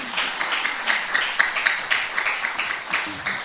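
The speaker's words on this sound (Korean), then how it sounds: "여러분 동의하시면 박수 한번 주십시오" Audience applause during a poetry talk event, a lively, even patter of many hands clapping at moderate loudness, without voices on top.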